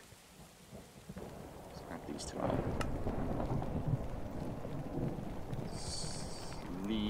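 A thunderstorm with steady rain in the Minecraft modpack ATM Gravitas 2, thunder rumbling as the downpour swells and holds, while someone talks briefly over it.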